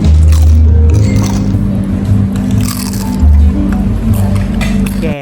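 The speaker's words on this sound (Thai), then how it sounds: "งั้นเรามาเริ่มกินจากตัวหนังหมูกันก่อนเลยนะ" Crispy roast suckling pig skin, Vietnamese style, is bitten and chewed right up close, with loud, steady crunching and squishy mouth sounds throughout.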